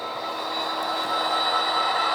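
Model train running on its track, a steady whirring rumble with a faint high whine, continuous and fairly close, with no voices.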